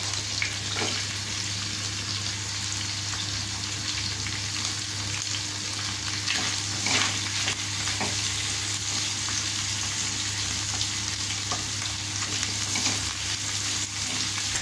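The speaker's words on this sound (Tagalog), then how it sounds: "Lagay ko na ang aking onion at saka garlic" Onion and garlic sautéing in a pan, a steady even sizzle with a low hum underneath and occasional faint clicks of a utensil, continuous and close, no talk.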